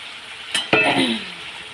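Cauliflower florets dropping into a hot pan of cauliflower and potato curry, a sharp clatter followed by a short burst of sizzling and stirring that quickly settles, close and fairly loud.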